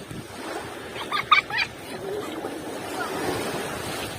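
Calm, clean sea in Turkey in November washes gently with a soft, broad surf rush, interrupted midway by a few brief sharp voice-like or barking sounds before the steady wash resumes.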